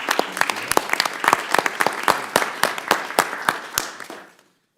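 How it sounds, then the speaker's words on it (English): Applause from a room of people at a congressional Rules Committee hearing, a steady patter of many hands clapping that fades out and stops near the end. "and Anna deserves a round of applause too."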